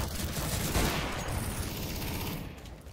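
A decoy grenade in CS:GO fakes gunfire with a steady, somewhat distant patter of rapid automatic shots that fades slightly toward the end.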